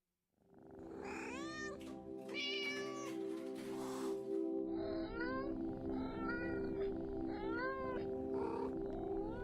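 A cat meows repeatedly in a string of drawn-out, rising and falling calls over a steady musical background, close and fairly loud throughout.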